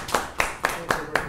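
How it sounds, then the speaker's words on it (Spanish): Five evenly spaced hand claps in a steady rhythm, close and crisp, celebrating the winners at a prize-giving for a newspaper bingo-style game, with no voices over them. "Bueno, un aplauso grande."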